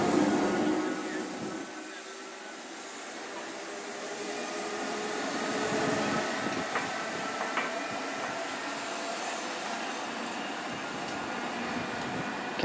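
Abellio Greater Anglia train departing Ipswich station, a broad steady engine and rail roar that swells and eases as it pulls away, moderately loud with faint station ambience.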